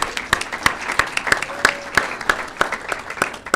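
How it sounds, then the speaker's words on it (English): Steady applause from an audience at a spring final student presentation, a dense patter of claps at moderate distance with no talking, lasting a few seconds. "warm round of applause for them."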